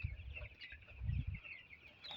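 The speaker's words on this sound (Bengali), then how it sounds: "ব্রয়লার মুরগি আমাদের আজকে ধরেন মোটামুটি 14 দিন বয়স" Fourteen-day-old broiler chicks peep and cheep in a poultry shed, a soft, continuous chorus of many small birds heard at low volume from a short distance.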